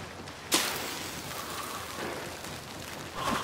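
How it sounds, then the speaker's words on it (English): Steady rain hiss falls across a map in Hunt: Showdown, a constant broadband wash at moderate level with a sharp crack early on and a brief swell at the end. "I mean, it is raining."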